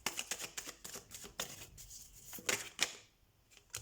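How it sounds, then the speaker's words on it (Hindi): Tarot cards being shuffled close up, a quick run of soft riffling flicks and slaps, fairly faint and with no voice over them. "तो सबसे पहले हम कार्ड शफल कर लेते हैं।"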